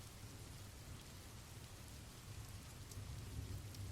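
Quiet, steady rainfall hisses with a low rumble of thunder underneath, growing slightly louder toward the end, with no voices.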